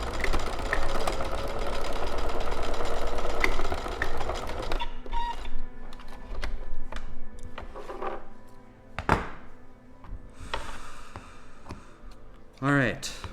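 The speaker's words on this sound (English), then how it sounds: "And then we're gonna sew on our corner pieces." Sewing machine stitching corner pieces onto a quilting project: a steady mechanical whir for the first few seconds, then scattered clicks, thunks and handling noises.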